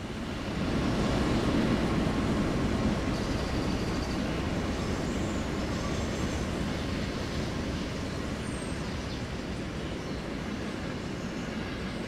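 A K&L Trainz P&B Pacific #1086 model train drifts past on its layout with a steady, continuous rolling rumble and faint wheel hiss, unchanging in level for the whole stretch.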